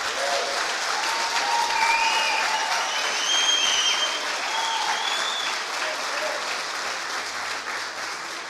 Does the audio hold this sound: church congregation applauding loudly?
yes